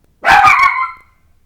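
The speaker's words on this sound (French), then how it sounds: "je vais y aller parce que mon chien va réveiller toute la rue." A single dog barks loudly and close by, one short sharp bark that ends quickly, with no other sound around it.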